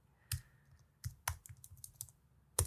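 Typing on a computer keyboard: a series of sharp, uneven key clicks in a quiet room, some closer together, with a final louder tap and no speech.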